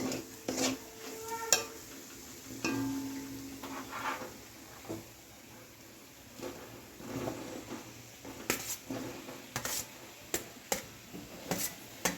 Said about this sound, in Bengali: এবার নাড়াচাড়া করে এবার এঁচোড়টা আর আলুটা দিয়ে দেবো।